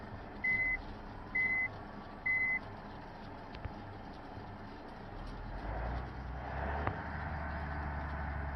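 Truck reversing alarm in a driving video game: three evenly spaced, clear beeps near the start, followed by a low engine rumble that swells toward the end, with no talking.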